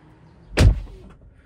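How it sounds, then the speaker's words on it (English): A Tesla car door shuts, heard from inside the cabin: one solid, deep thud, close and fairly loud, followed by quiet. "Let's test out how solid the door sounds from the inside."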